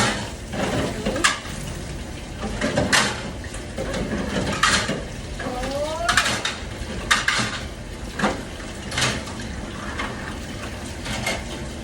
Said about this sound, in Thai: ล้างจานค่ะ คนล้างจานอยู่ข้างหลังนะคะ